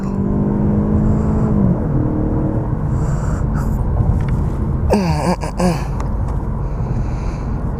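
A 2016 Ford Mustang accelerates hard onto a freeway, its engine note climbing loudly through rising revs, dropping at a gear change and then surging again over steady road rumble and wind.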